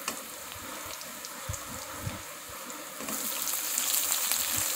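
Shrimp and ridge gourd sizzling and frying in a pan as they are stirred, a soft steady hiss with light scraping knocks that grows brighter and louder near the end.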